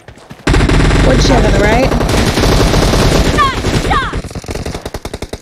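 Rapid bursts of M7 submachine gun fire in a shooter video game team deathmatch, loud and dense through most of the stretch, with someone talking over the shooting.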